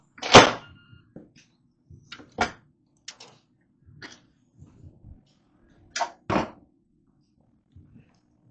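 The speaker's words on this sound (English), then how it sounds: "let's go ahead and get this lid off" Lid of a Ninja Foodi multicooker being lifted off after pressure venting, with a peach and cherry crumble inside: a loud clunk at the start, then sparse plastic clicks and thunks, close and otherwise quiet.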